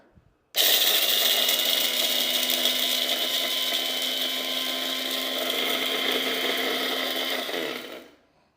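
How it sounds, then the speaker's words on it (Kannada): A Bullet mixer grinder grinding horse gram starts abruptly and whirs at a loud, steady high pitch for about seven seconds, then winds down and stops. "ಜಸ್ಟ್ ನಾರ್ಮಲ್ ಮಿಕ್ಸಿ ಥರನೇ ಹಾಕಿ ರೊಟೇಟ್ ಮಾಡಿದ್ರೆ ಮುಗೀತು. ಸೊ ಇವಾಗ ಆನ್ ಮಾಡಿ ನೋಡೋಣ."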